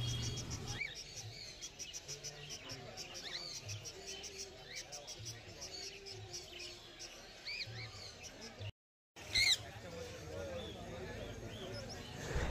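Pet lovebirds and other caged birds at the Galiff Street bird market in Kolkata chirp and tweet repeatedly in a busy, close chorus, with voices mixed in and a brief dropout partway through.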